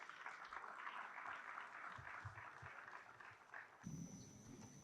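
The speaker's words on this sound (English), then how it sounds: "A huge round of applause." Quiet applause from the audience at a financial markets quiz and essay contest award ceremony for a national essay winner, steady clapping that cuts off abruptly near the end, followed by a faint hum.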